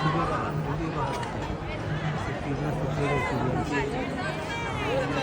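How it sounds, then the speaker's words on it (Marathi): Tourists crowd the grounds of Trimbakeshwar temple, filling the air with a steady outdoor hubbub of overlapping voices, while someone speaks up close over the chatter. "बाकी पर्यटकांची इथं तोबा गर्दी झालेली आहे."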